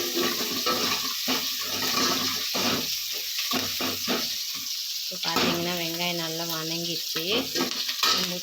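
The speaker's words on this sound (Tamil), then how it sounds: "இப்போ கொஞ்ச நேரம் வெங்காயம் நல்லா வணங்கட்டும்" Sliced onions and curry leaves frying in oil in a pan, giving a steady close sizzle throughout. Low stirring scrapes and a faint voice-like tonal hum come through partway.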